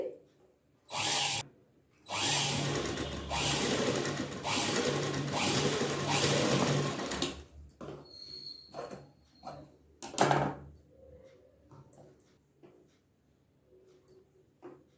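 A motorized sewing machine stitches fabric lining in a home tailoring lesson. It runs in short bursts and one long buzzing run of a few seconds, followed by quieter handling clicks and pauses.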